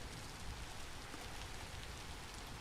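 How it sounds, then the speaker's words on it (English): Steady rain falling in the video game Vintage Story, a continuous even hiss of drops across the whole span, fairly faint with no other sounds. "This rain out here, it's already seems like evening."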